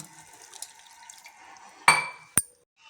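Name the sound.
water being poured while cooking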